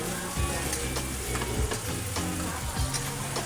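Hotdog sizzling and frying in a pan while being stirred, a close, steady crackle broken by repeated scraping stirs, with no talking.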